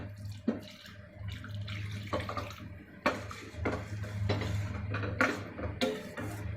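Water is added to a pot of beetroot kurma on the stove, with pouring and sloshing mixed with sharp clinks of utensils against cookware and a steady low hum from the kitchen.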